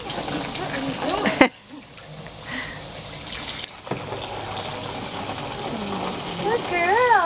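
Water runs from a garden hose while puppies drink from it and a pool fills, a steady splashing trickle under a person's voice.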